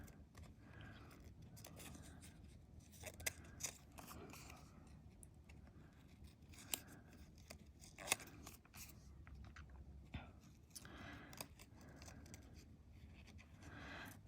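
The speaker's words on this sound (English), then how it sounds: "This Frida is actually very pretty, but very finicky to cut out" Scissors snipping out a Frida paper image for a collage, quiet repeated small cuts and paper rustle close by, with a few sharper snips along the way.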